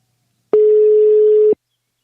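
A single steady telephone tone sounds for about one second while a call is placed, loud and isolated, starting and stopping abruptly with silence on either side.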